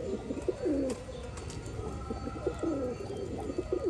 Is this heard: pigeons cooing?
yes